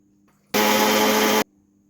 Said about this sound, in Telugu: ఈ మొత్తము కరివేపాకు పొడి మంచిగా కలుపుకొని మళ్ళీ మిక్సీ పట్టుకోవాలి